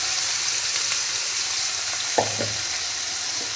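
Hot oil in a pan hisses in a loud, steady sizzle as a tadka of ginger, green chilli and garlic is fried for a besan pakora curry, with a brief clink of a utensil partway through.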